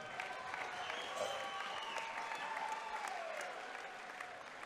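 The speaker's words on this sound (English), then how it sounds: "How about a round of applause for these two guys?" Arena crowd at an MMA event applauding and cheering two fighters after a close bout, a steady dense wash of clapping with a faint tonal whistle or cheer drifting through, moderately distant.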